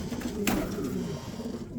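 Turkish neck-bent pigeons, the famous breed, coo in low, steady murmurs close by, with a brief brighter rustle near the middle and no talking.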